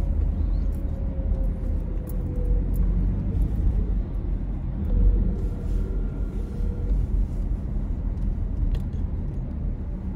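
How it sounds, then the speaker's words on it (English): A low-flying airplane comes in overhead, a deep continuous rumble that swells slightly and holds steady throughout, with no talk. "that plane is coming in really low"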